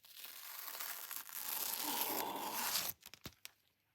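Wide sticky tape is peeled off with a long, crackling rip, followed by a few short crinkling handling noises as it stops.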